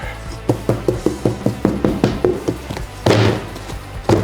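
A pinned shaker-style wooden cabinet door is shut repeatedly: a quick, even run of light close wooden taps and thuds, followed by two heavier, louder knocks.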